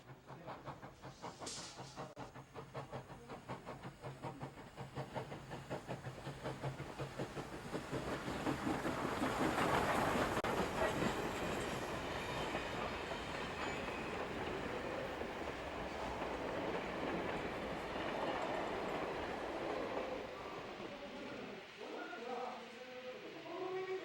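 HO scale model trains running on a large layout, a soft continuous rolling rattle of small wheels on track with rising and falling clatter over a quiet background.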